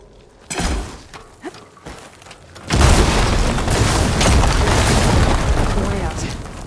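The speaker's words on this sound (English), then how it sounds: "Hitting those blaze barrels with fire ammo should do the trick." Blaze barrels struck by fire ammo in Horizon Forbidden West burst into a loud, shattering explosion after a few softer thumps, followed by a sustained roaring rumble of fire and debris.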